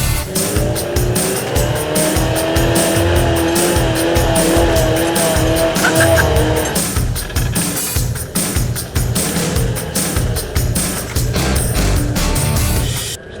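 Jeep fitted with UTV/SXS tires and wheels driving off-road under heavy throttle, a loud continuous engine roar with revving and tire noise close by throughout, brief whoops from people in the background.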